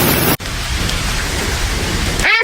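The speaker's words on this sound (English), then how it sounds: "It's torrential raining" Torrential rain pours down over a farm in a rainstorm, a loud, steady hiss of dense rainfall with a brief dropout near the start.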